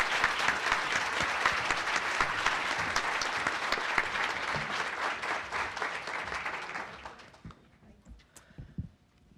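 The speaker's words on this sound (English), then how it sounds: "Let's give them another round of applause for this great conversation." An audience at a child hunger leadership conference applauds panelists, dense sustained clapping from a crowd that fades into a few scattered claps.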